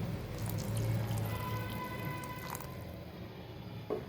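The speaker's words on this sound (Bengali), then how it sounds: "এখন দিয়ে দিব পানি দিয়ে গুলিয়ে নেওয়া কর্নফ্লাওয়ার" Cornflour mixed with water is poured into a simmering hot and sweet sauce of tomato sauce, soy sauce, salt and sugar, giving a steady soft bubbling and liquid wash, close and fairly quiet, with a faint clink near the end.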